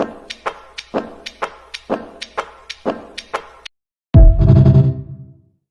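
A brush drum kit groove built from basketball sounds with reverb gives a steady run of crisp taps and thuds, then a short pause and a loud, washy sustained hit that fades out.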